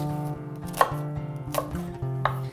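A knife chops through an onion on a cutting board, three sharp distinct knocks spaced under a faint background tone, close and clear.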